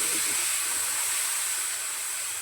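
Barnyard millet (bhagar) batter ladled onto a lightly oiled hot tava for fasting dhirde gives a steady, even hiss of steam and sizzle that holds loud for a couple of seconds with no talk.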